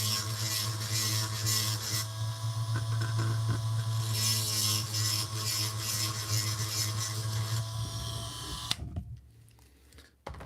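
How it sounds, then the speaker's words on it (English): A small hand tool ratchets and grinds with a steady mechanical whir to enlarge holes in a plastic He-Man Mosquitor action figure. The rhythmic clicking runs continuously and then stops near the end. "Let's just enlarge these holes a little bit."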